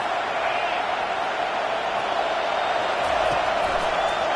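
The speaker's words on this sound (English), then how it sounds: "this crowd is turning it up a notch" A steady, dense roar of a large stadium crowd cheering in a college football video game, the Palmetto Bowl rivalry between Clemson and South Carolina, holding loud and even throughout with no break and no voices standing out.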